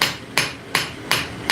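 A hammer strikes metal on an anvil during forging, four sharp ringing blows at an even, unhurried rhythm, close and loud, each decaying briefly before the next.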